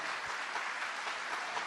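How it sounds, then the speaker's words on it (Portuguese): Congregation applauding during a Catholic preaching session at an international Marian congress in Fátima, Portugal; a steady, dense wash of clapping from a large crowd, moderately distant and sustained throughout. "Vamos aplaudir a palavra de Deus"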